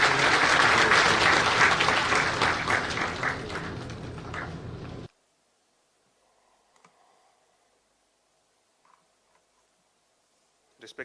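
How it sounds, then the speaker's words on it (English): A university induction-program crowd applauds the chancellor with loud, full clapping for about five seconds, which cuts off abruptly into near silence broken by a few faint clicks. "please have a big round of applause for Neeraj Chancellor."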